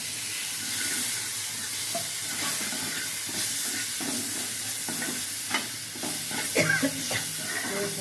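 Steady sizzling of spices and tomato frying in a pan, with occasional stirring scrapes and clinks over a continuous hiss.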